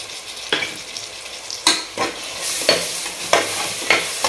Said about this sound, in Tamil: இஞ்சி பூண்டு பேஸ்ட்டு நல்லா வாசம் போடுற வரைக்கும் நல்லா வணக்கலாம்